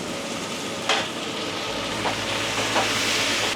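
Pieces of pointed gourd (potol) fry in a covered pan with a steady, soft sizzle and a few brief clinks.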